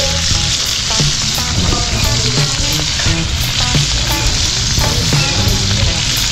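Food sizzles and crackles steadily in hot oil, a dense continuous frying sound with small pops, close by and without talk.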